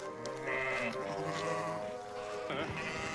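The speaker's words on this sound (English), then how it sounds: "It's a sheep stampede." Sheep bleat continuously in a stampede, several overlapping calls at close range, with a voice talking over part of it.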